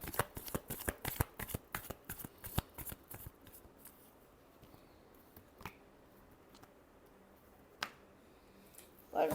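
Tarot cards being shuffled, a quick run of crisp riffling flicks up close that thins into a few scattered taps and slaps of the deck settling, quiet and without talk.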